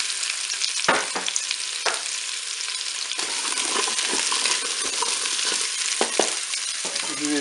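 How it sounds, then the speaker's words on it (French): Carrots go into onions sautéing in a Cookeo multicooker pot, making a steady loud sizzle broken by a few scraping stirs and clatters. "Je vais maintenant ajouter mes carottes."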